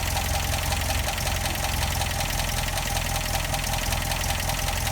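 An MGA MK2 engine idles steadily and loudly at close range, a continuous even rumble with a slight knocking pulse while its idle is being adjusted at the carburetors.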